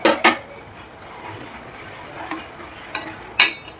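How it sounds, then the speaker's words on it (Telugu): Badusha sweets frying slowly in oil on a low flame, with a faint steady sizzle broken by a few sharp clinks of a utensil against the pan. "బాదుషా అనేది నెమ్మదిగా కాలుతుందండి"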